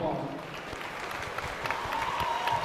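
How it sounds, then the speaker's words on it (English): Steady crowd applause for young exhibitors at a youth livestock swine show, a continuous wash of clapping from a sizeable audience lasting throughout at an even level. "Give these kids a round of applause."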